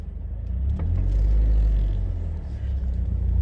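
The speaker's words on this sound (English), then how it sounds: "you press on the gas and you let the clutch go slowly" A manual car pulls away from a stop as the gas is pressed and the clutch let out slowly, its engine giving a low, steady rumble that swells and holds close by.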